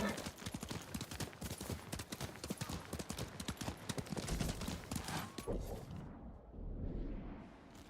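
Horse hooves clip-clop steadily in Ghost of Tsushima as a mount trots along, a busy rhythmic patter of close hoofbeats that fades out near the end.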